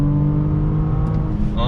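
Engine of a 2020 Audi S6 sedan pulling hard at full throttle, a steady, loud low drone heard from inside the cabin for a brief moment before easing off.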